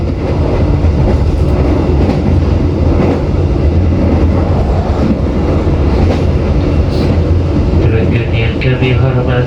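The Majapahit Express passenger train rumbles steadily along its rails on the Jakarta to Malang route, a loud continuous roar with faint clicking heard from inside a carriage, while an announcement voice speaks over it.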